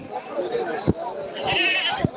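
Large goats at a busy rural livestock market in Tangail give short bleats over a steady murmur of crowd talk and bargaining, with a couple of sharp knocks nearby.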